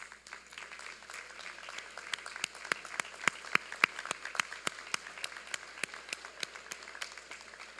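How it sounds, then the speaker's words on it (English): Graduates and guests at the SUNY Ulster 2024 commencement ceremony give a round of applause, heard as scattered, distinct handclaps at a moderate distance that rise and continue steadily in a large hall. "Graduates, please rise and give them a big thank you and a round of applause"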